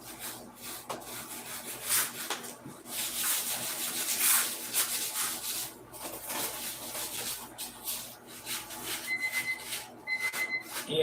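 Scissor blades rubbed and sharpened on sandpaper and steel wool, giving a steady gritty rasping scrape that runs continuously, fairly close, with a few brief higher scratchy bursts near the end.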